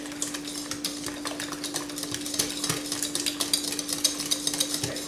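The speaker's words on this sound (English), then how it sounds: "Alright, let's go ahead and beat them in." Eggs beaten into a batter by hand, a utensil clicking and scraping rapidly against the bowl in a steady rhythm, close up and moderately loud, with a constant electrical hum underneath and no talking.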